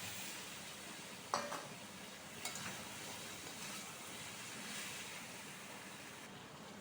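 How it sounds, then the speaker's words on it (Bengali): Fried potatoes coated in spice masala are stirred in hot oil in a pan, giving a faint, steady sizzle with a few light scrapes and clinks of the spoon against the pan. "দেখো নাড়িয়ে চাড়িয়ে নিয়েছি, মশলাগুলো পুরো লাগিয়ে নিলাম আলুর মধ্যে"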